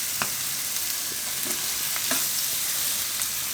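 Spinach for a Gujarati carrot and spinach dish being stirred in a pan over low heat, with a soft steady sizzle and a few light scraping touches of the spoon, fairly quiet throughout.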